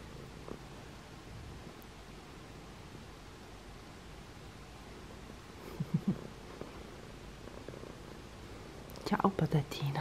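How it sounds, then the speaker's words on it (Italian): A domestic cat purring close by, a soft steady low rumble running through the whole stretch, with brief bursts of a voice speaking near the middle and end. "gatta Stellina fa subito le fusa"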